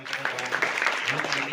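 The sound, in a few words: audience applause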